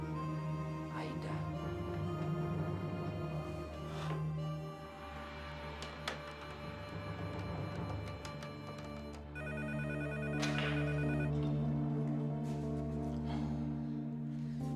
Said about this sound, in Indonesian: Siapa sih tengah begini telepon?